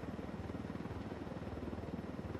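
Helicopter in the video game Ghost Recon Wildlands, a steady low rotor chop with a rapid rhythmic pulse and engine drone, held constant and close throughout.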